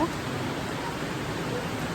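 Steady rain falling outdoors, a dense even hiss of drops at constant loudness with no pauses.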